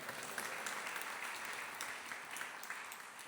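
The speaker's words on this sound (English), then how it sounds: "Give her a round of applause." A crowd claps for a female singer who has just performed at a spiritual gathering in Auckland, New Zealand; an even, moderately soft wash of applause runs the whole time without talk.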